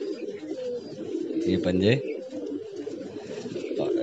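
A pigeon held in the hand gives soft coos and flutters its wings as it struggles to get free, under close, steady talking.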